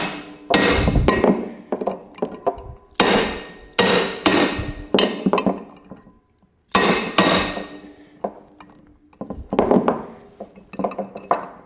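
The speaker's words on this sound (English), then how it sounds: "you need to use a hand punch" Sharp metallic hammer blows strike a hand punch on Loctited screws during a Honda 450R bearing change, in quick bursts of several hits, loud and close, separated by brief pauses.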